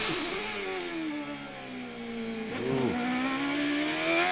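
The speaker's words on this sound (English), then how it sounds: "We're on board with Brack. And he is hustling it big time." Onboard at Laguna Seca in a 2002 CART race car during qualifying, the engine screams loud and close, its pitch rising through the gears and dipping briefly under braking before climbing again.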